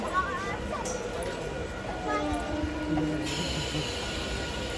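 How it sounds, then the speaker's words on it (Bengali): A train stands at a station at night, giving a low rumbling hum with faint squealing tones and clanks while people talk nearby. "ট্রেন এখনও ছেড়ে যায়নি"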